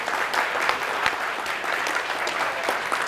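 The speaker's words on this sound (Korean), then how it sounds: "동의하시면 박수 한번 치시죠." An audience at a taekwondo instructors' training lecture breaks into applause, a dense, even burst of many hands clapping at moderate loudness for a few seconds.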